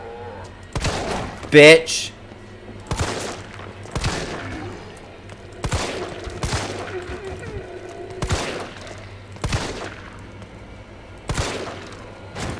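Gunfire from shooting a zombie in Resident Evil 3, several separate sharp shots spaced a second or two apart, with a voice swearing among them.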